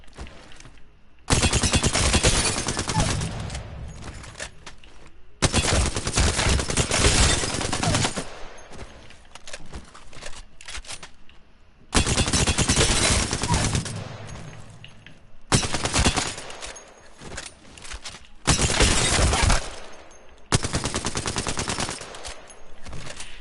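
Long full-auto bursts from an Alternator SMG in the shooter game Apex Legends, loud and close, fired in several sustained strings separated by brief pauses.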